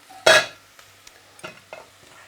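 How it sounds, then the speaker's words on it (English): Vegetables for couscous being stirred together in a bowl: one loud scraping swish near the start, then a few softer, scattered stirring scrapes and taps. "Mix all the vegetables thoroughly"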